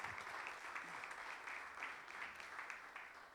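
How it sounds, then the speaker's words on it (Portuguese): A Bible study congregation gives a round of applause, a steady, fairly faint wash of clapping heard from a distance and sustained without pause. "Você pode dar uma salva de palmas ao Senhor?"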